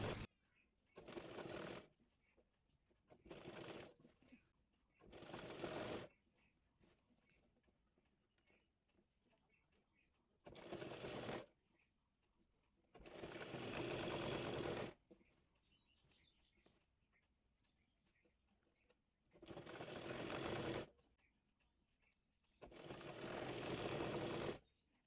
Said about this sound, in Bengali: চারপাশে এভাবে ঘুরিয়ে ঘুরিয়ে কুচি করে সেলাই করে নেব।